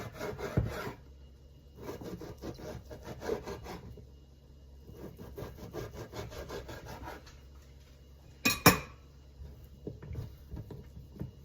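A knife slices roast beef into strips with repeated soft, sawing strokes against a board. There is a sharper knock near the end.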